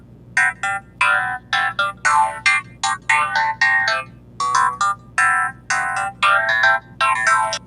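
Dry synth instrument track without its beat-breaker effect, chopped into short rhythmic bursts of bright tones with brief gaps, loud and close, alone with no talking.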